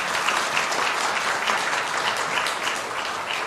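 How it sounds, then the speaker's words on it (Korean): A church congregation applauds during a Sunday morning service, a dense, even clatter of many hands clapping steadily for the whole stretch with no break. "박수로 화답해 주시기 바라겠습니다."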